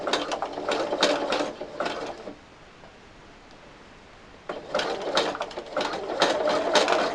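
An electric i-cord knitting machine working a twirled i-cord coaster runs in two bursts of rapid, ticking mechanical clatter, separated by a quieter pause of about two seconds, with no talk over it.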